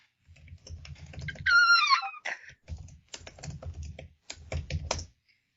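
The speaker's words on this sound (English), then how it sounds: "He's just typing it out." Rapid clicking on a computer keyboard, close and irregular, in bursts with short pauses and one brief squeaky cry partway through.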